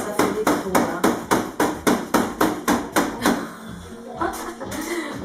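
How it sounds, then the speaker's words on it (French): Hammer blows land in a fast, steady series of about a dozen loud, sharp strikes that then taper into scattered, softer knocks and rattling, with faint voices in the background. "À coups de marteau, vieux."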